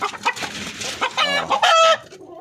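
Filipino native chickens cluck loudly and close by, in a rapid run of sharp, rising calls that ends in a drawn-out squawk.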